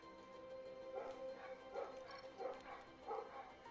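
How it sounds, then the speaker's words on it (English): Several dogs bark in short yipping bursts spaced about a second apart, moderately loud over a steady background hum, with no talking. "Sorry about my dogs yet again."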